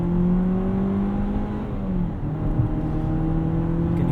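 A 2018 Jeep Compass Sport 4x4 with an automatic transmission accelerating from inside the cabin: a steady engine drone climbs in pitch, drops briefly as a gear shift lands, then rises again, with no talking.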